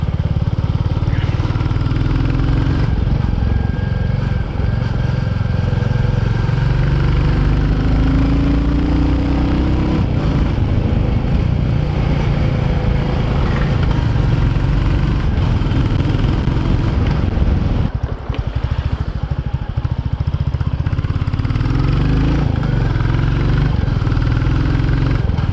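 A new 2022 Royal Enfield Classic 350 motorcycle engine runs steadily and loudly throughout, with a continuous low thumping rumble while riding, close to the microphone and without speech.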